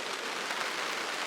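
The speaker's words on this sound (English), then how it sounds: "So it started raining now." Rain falls on a polytunnel as a steady, even hiss of light drumming on plastic sheeting, soft and continuous, with no voices.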